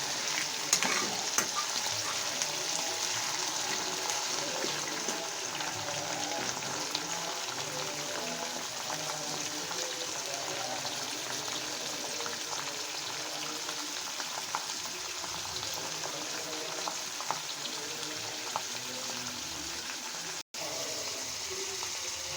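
Chicken gravy with cooked chicken pieces sizzles steadily in a frying pan while being stirred, a continuous close, even frying hiss with faint scraping throughout and a brief dropout near the end.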